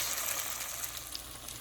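Steady, bright sizzle of cow skin frying in a hot pan, close and continuous, with no talking.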